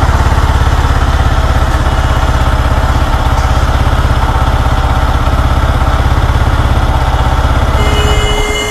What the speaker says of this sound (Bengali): বাইক কিন্তু এখন স্টার্ট আছে এই যে